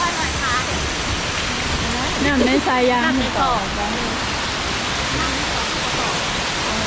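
Waterfall at Tad Tayicseua in southern Laos, a broad steady roar of rushing water filling the scene, with people chatting briefly over it partway through.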